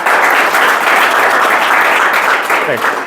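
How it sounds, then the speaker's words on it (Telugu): Classroom students clap for a boy in a loud, sustained burst of applause that stays steady for several seconds, with a voice faintly mixed in. "ఒకసారి క్లాప్స్ కొట్టండి అబ్బాయికి"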